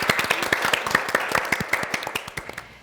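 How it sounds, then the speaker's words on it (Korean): Small studio audience clapping for a guest on a Korean radio program, distinct individual claps in a quick irregular rhythm, close and moderately loud, tapering off toward the end. "다시 한번 원장님께 큰 박수 부탁드릴게요"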